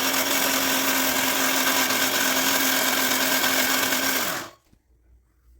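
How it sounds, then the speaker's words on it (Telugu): A mixer grinder runs at full speed blending soaked semolina into a paste, a loud, steady whirring drone that holds for about four seconds and then winds down abruptly to near silence. "మిక్సీలో అయితే ముందుగా నానబెట్టుకున్న రవ్వని అయితే వేసి మెత్తగా మిక్సీ పట్టుకోవాలి"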